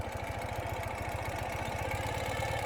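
A 2017 Ural Gear Up sidecar motorcycle idles in reverse, its engine giving a steady, rapid low thumping pulse at moderate distance.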